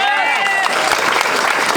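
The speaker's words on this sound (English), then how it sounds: "you can clap for that" An audience claps and cheers at a public speech event, a dense rush of hand claps with crowd voices and a speaker's voice ringing over it.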